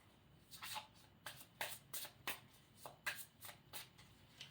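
Tarot cards being shuffled in quick bursts, a soft riffling flutter repeated about ten times, close and fairly quiet with no talking.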